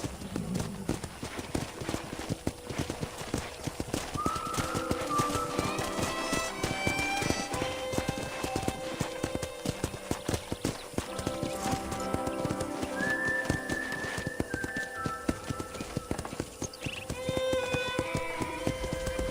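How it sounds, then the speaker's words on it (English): Steady clip-clop of horse hooves moving at a brisk pace in the video game Red Dead Redemption, with an occasional whinny and soft tones running underneath. "let's see if you can still ride a horse."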